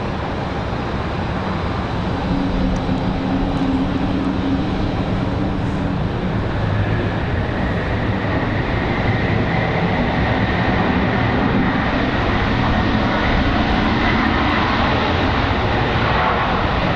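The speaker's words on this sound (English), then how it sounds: "So this is A220 number 1 out of 3 on their way in here" Airbus A220 airliner arriving at Raleigh-Durham airport on a windy day, a steady, loud jet engine roar that holds throughout with a broad rushing wash and a faint rising whine partway through.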